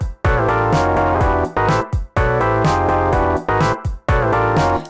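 A MIDI chord part in Ableton plays over a beat and a bass line, loud layered chords with deep bass and drum hits repeating in a choppy two-bar loop.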